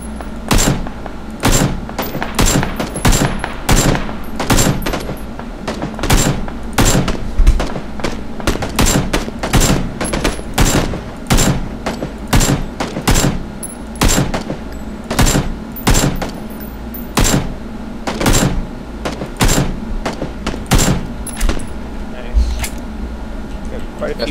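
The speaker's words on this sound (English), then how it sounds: "Oh, they're shooting." Rapid bursts of gunfire in the Battlegrounds video game, with many sharp shots spread across the whole stretch in an uneven, rattling rhythm, some close and loud, while players talk over the shooting.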